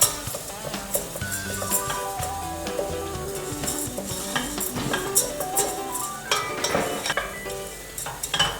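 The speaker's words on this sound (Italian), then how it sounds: "Aggiungiamo il riso e lo tostiamo un attimo." Rice toasting in a pan for risotto, stirred steadily with a utensil that scrapes and clinks against the pan, with a continuous soft sizzle and irregular stirring strokes throughout, close and fairly loud.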